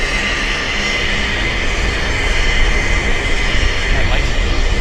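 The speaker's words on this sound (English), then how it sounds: "our Westjet is now taxiing into position" A WestJet airliner taxis at Vancouver Airport ahead of a departure to Calgary, a steady broadband jet roar and whine holding level throughout at moderate distance, with no pauses.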